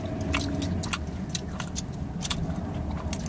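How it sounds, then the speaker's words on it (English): Gum being chewed close by, with soft wet smacking and clicking in an irregular rhythm over a low road rumble inside a moving car. "I bet you can probably hear my gum."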